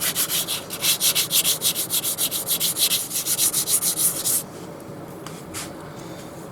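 A cloth wipes over a sanded wood piece in quick, rhythmic back-and-forth strokes, close and loud, before easing into softer, sparser rubbing.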